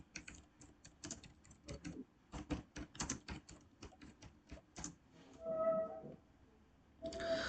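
Rapid keystrokes on a computer keyboard as a terminal command is typed: a close, crisp run of clicks in uneven rhythm for about five seconds, followed by a brief electronic tone.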